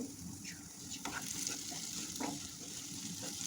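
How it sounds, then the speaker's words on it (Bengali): Olive pickle frying in mustard oil in a pan while being stirred, a steady sizzle under intermittent scraping strokes of the spoon, close and continuous without talk. "আর একটু তেল দিয়েছি এখন নেড়ে চেড়ে দিচ্ছি"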